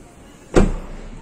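A car door on the new Toyota Yaris 1.0 Vision shuts with a single solid, muffled thud close by, a short decaying rumble following the impact in an otherwise quiet setting.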